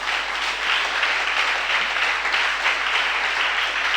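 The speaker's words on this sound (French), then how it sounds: "Si tu le crois, acclame le Seigneur." A church congregation claps and cheers together in a steady, dense roar of applause that fills the room for several seconds without letting up.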